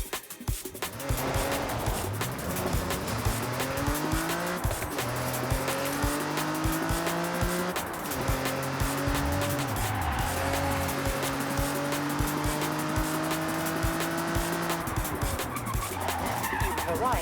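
A Subaru WRX in the Forza Horizon 6 racing game drives on dirt, its engine revving and shifting through rising and falling pitches alongside continuous tire scrubbing and skidding, loud and steady throughout.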